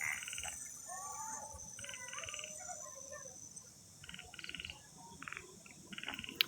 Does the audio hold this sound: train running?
no